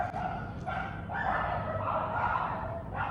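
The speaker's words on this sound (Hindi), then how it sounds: "कुत्ते भौंक रहे हैं थोड़ा, तो उसका कुछ नहीं कर सकते" Dogs bark and yelp in the distance, several overlapping calls in short bursts over a steady low background hum.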